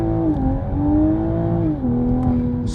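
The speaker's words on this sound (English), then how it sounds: "So we have traction off. We're cruising first gear," A car engine revs as it accelerates in first gear with traction control switched off. The pitch climbs steadily, drops at an upshift-like dip, then climbs again. It is loud and close, with no talk.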